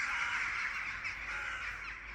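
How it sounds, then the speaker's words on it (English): Birds caw steadily in a dense flock over the ruins of the Knossos palace on Crete, a continuous overlapping chorus of harsh calls at moderate distance, with no talking. "Swarm of birds."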